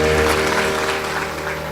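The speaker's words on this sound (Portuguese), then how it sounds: "Aplauda ao Senhor" Congregation clapping together in a church, a dense steady wash of applause filling the space for the whole moment, with sustained organ or keyboard tones held underneath.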